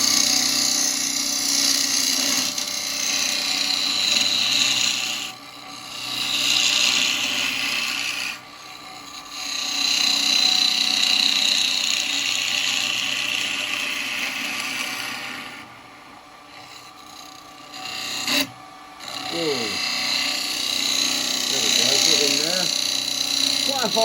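A wood lathe spins a hard Bubinga bowl while a spindle gouge cuts it, making a loud, continuous hissing scrape that dips briefly as the tool lifts off, with a faint voice near the end.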